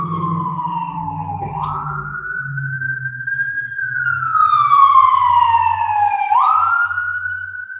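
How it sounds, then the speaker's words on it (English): An ambulance siren wails past nearby, its rising and falling tone loud and clear, with the pitch sliding downward as it goes by and a low vehicle rumble beneath. "Wow, there's an ambulance."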